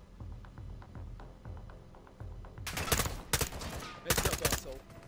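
Gunfire in Modern Warfare 2: a quiet stretch with a low rumble, then loud, close bursts of rapid automatic fire from about the midpoint, several separate volleys with short gaps between them.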